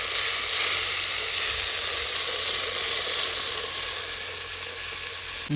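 Steady close sizzle of chopped tomatoes frying in a pan for masala Maggi noodles, a continuous crackling hiss with no talk over it.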